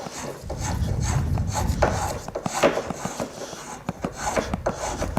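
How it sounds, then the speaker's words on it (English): Hand rasp filing wood to shape the heel of a curved workpiece, sweeping down toward the rim: close, uneven strokes of coarse scraping and rubbing, with brief pauses between passes and no talking. "Okay, to get close, we'll finish that with the rasp."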